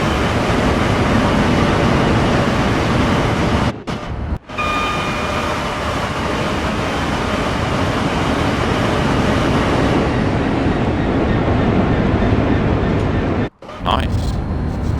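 A Class 66 locomotive in Craters Club livery running on its own past a moving train near Watford, heard as a loud, continuous rumble and roar from a train interior, with brief dropouts and someone speaking over it.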